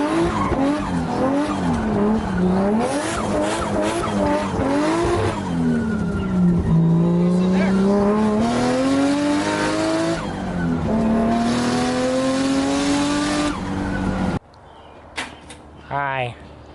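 Nissan S13 drifting with loud, continuous tire squeal and skidding under a revving engine whose pitch rises and falls over several slides, heard close from inside the car, ending abruptly into a quieter stretch with faint chirps.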